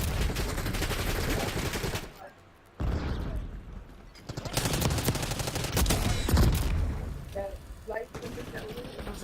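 Bursts of gunfire from the Call of Duty Black Ops 6 video game on the Shattered Veil map, with rapid shots and mechanical clicks that come and go over about nine seconds, mixed with game voices and speech.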